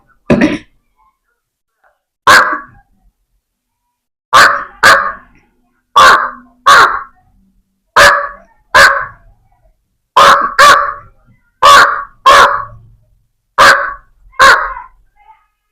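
A voice imitates a crow's harsh caw, about a dozen loud rasping calls, mostly in pairs, separated by silence.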